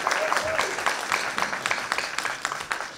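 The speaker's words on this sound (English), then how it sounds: "just give her a hand of applause because she's awesome" An audience at an alumni panel on Black student history at Stony Brook applauds a panelist, steady crowd clapping of moderate loudness with individual claps audible and some voices mixed in.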